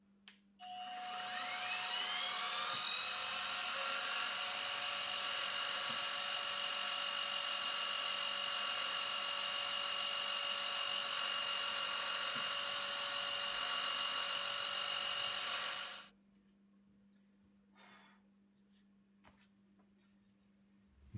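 Power drill boring holes in a guitar body with a 1/8 inch bit, a steady high-pitched whine running close and loud for about fifteen seconds before stopping abruptly, leaving quiet room noise.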